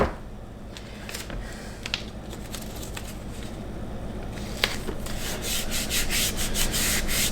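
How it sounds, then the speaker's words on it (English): Cordless drill with a fresh 3/16 bit boring through a wooden cabinet drawer, a steady grinding rasp that grows louder and harsher toward the end, close and alone. "got a fresh 3/16 drill bit, which I will put into my cordless drill"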